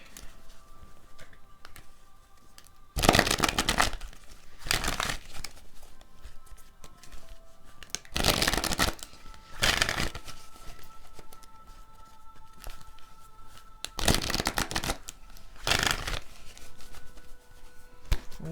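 A deck of tarot cards being shuffled in loud, dense bursts, with several separate riffle-like rushes spaced through the clip and quieter handling sounds between them.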